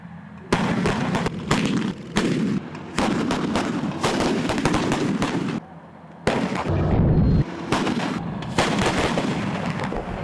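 K-55A1 self-propelled howitzers firing during live-fire training on a snowy mountain in deep cold: loud, continuous booming blasts and rolling echoes, nearly unbroken for the whole stretch, with one brief lull.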